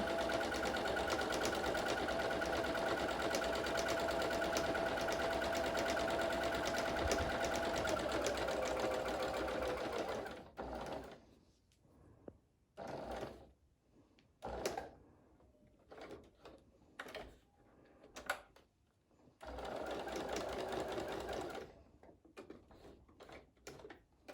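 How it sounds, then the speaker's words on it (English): A sewing machine stitches quilt pieces with gold thread, running in one long continuous whirring burst, then in short stop-start runs with quiet gaps between, close and steady, with no talking. "I'm just gonna stitch these down. I chose a gold thread so that it'll be partially visible"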